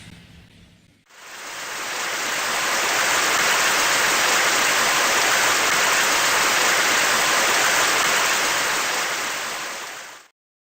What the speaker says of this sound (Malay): mereka mulai lepas dari awan dan jatuh ke bawah sebagai air hujan